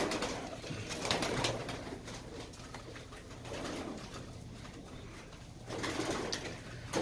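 Baku wide-tailed pigeons coo softly in low repeated swells, fairly faint and a little distant, with rustling and background noise between the calls.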